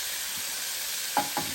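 Salisbury steak being flipped and mashed in a Power XL cooker: two quick scraping strokes close together over a steady, bright sizzling hiss.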